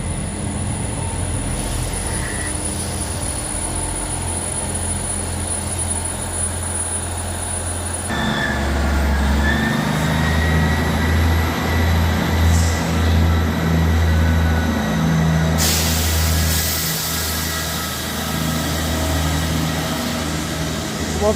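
A South Western Railway Class 158 diesel unit, 158882, on the Salisbury to Southampton Central service passes close by with a loud rumble and a rhythmic clatter of wheels, then a high, sustained squeal of the wheels on the rails.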